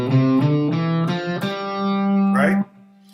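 Electric guitar runs up a G Mixolydian scale in even, straight eighth notes for a blues lesson, with about seven plucked notes in a steady rhythm and a final held note. It sounds close and clear, with a light overdriven tone.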